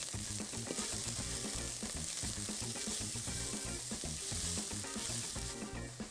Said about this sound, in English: so now I'm adding the mushrooms